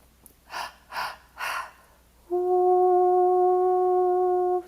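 Three deep breaths drawn in a breathwork meditation, each a soft airy rush, followed by a steady, loud sustained tone that hums on to the end.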